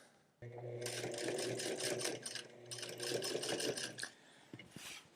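A sewing machine top stitches black jeans in two long, fast runs of rapid needle chatter, close and fairly loud, separated by a brief pause and ending in a few clicks.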